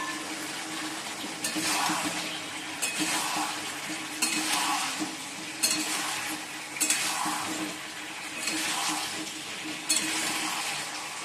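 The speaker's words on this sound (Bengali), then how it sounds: "এবার চিকেনগুলো দিয়ে দেবো, এই যে চিকেন ভাজাগুলো দিয়ে দেবো।" Fried chicken pieces being stirred into a tomato, chili and soy sauce gravy for chili chicken, with a steady sizzle broken by repeated scraping stir strokes every second or so, close and fairly loud, no talking.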